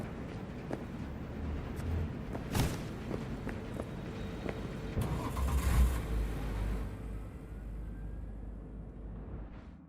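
A car engine in the video game Cyberpunk 2077 idles, then revs and pulls away, with a thump and rising engine swell midway before the rumble steadies and fades slightly; no speech.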